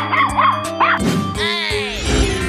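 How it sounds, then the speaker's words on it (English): A cartoon dog in a 3D animal slide game gives several quick yipping barks in a bouncy rhythm, close and clear over upbeat game music. "Dog."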